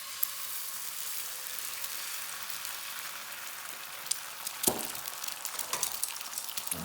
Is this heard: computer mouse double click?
no